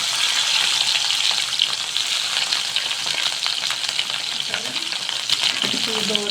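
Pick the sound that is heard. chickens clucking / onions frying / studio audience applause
onions frying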